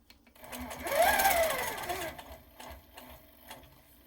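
A Platinum Q 165 quilting machine stitches in the ditch along a ruler, a brief rising and falling mechanical whir lasting about a second, fairly quiet, with light clicks afterward.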